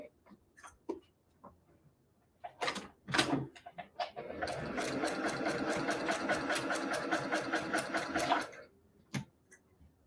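A sewing machine runs the final seam of a quilt block, a steady rapid mechanical stitching lasting about four seconds, framed by scattered clicks and handling taps before and after.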